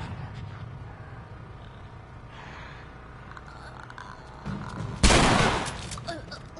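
Gunfire aimed at clickers in The Last of Us, a sharp loud burst near the end after a stretch of low rumbling game ambience, with a brief tail.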